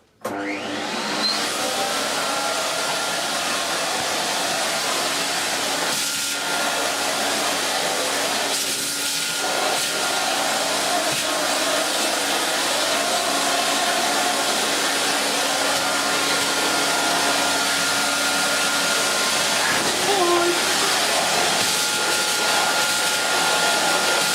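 A Hoover Galaxy vacuum cleaner with a crevice tool runs continuously at close range removing cobwebs, a steady loud whooshing roar with slight shifts in pitch as the nozzle moves.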